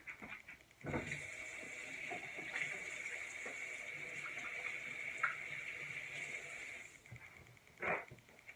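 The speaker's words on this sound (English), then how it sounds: "I'm going to wash them right now so I'm not contaminating anything." Hands being washed under a running kitchen tap while salmon is prepared, a steady close stream of water with brief splashes when the hands move under it.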